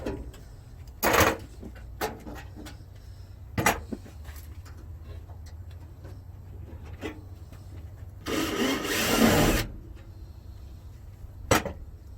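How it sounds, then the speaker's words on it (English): An air hole punch drives holes through sheet metal on a 1962 Chevrolet Bel Air wagon inner rocker panel, giving sharp separate pneumatic bursts at uneven intervals, with one longer hissing blast near the end. "here we have an air hole punch, and this is what we're using to punch the holes in the sheet metal"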